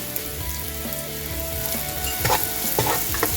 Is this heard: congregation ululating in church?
no